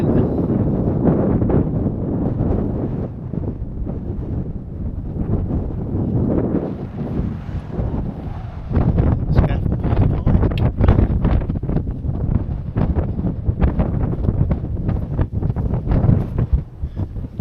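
Cold wind buffets the microphone outdoors at a wild camp near Esk Pike in the Lake District, a steady, heavy roar with gusty swells and rustling that carries on throughout, with no voices.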